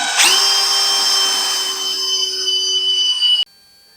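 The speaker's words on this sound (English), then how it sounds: "let's go ahead and drill these 2 holes" Power drill whines at a steady high pitch as it bores into metal for tapped holes on a Factory 5 Racing Roadster build, running continuously for about three seconds before stopping abruptly.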